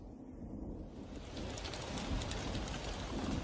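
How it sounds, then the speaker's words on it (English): Steady monsoon rain in a tropical jungle, a dense continuous hiss of drops on foliage that thickens partway through, with low rumbles of distant thunder underneath. "Thunder in the distance."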